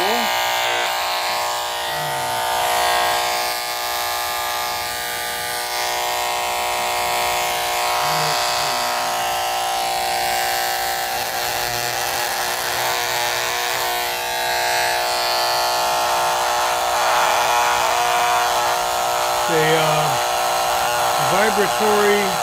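A vibratory engraver buzzes against a large piece of petrified wood from Saddle Mountain, a loud steady electric drone with small shifts in pitch as it works, with someone talking intermittently over it.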